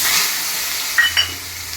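Boiled, drained taro greens go into a hot frying pan with green chillies, raising a constant close hiss with two quick crackling bursts near the end.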